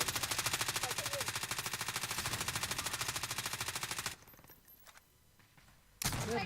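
Sustained rapid automatic gunfire from the Warzone 2.0 video game, a loud close burst of evenly spaced shots lasting about four seconds, then a quiet pause with faint clicks before another loud burst of fire resumes.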